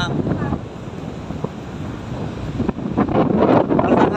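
Strong wind buffets the microphone outdoors beneath a bridge, a continuous loud rumbling roar that swells and gusts harder toward the end, with faint voices under it.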